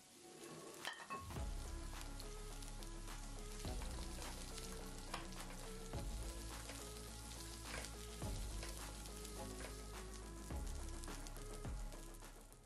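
Ginger, garlic, green chilies and cashews fry in a pan with a dense, steady crackling sizzle, punctuated every couple of seconds by sharper pops and spatters, fairly faint overall.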